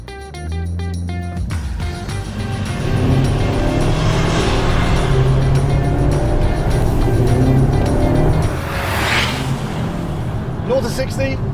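A 2023 Dodge Hornet GT with a turbocharged 2-litre four-cylinder Hurricane engine and all-wheel drive drives past loudly, the engine note rising and swelling through the middle before easing, with a voice talking over the start.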